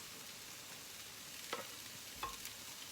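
Carrots and peas added to a frying pan already full of peppers, onions and chillies, a quiet continuous sizzle with two brief clatters as the vegetables go in.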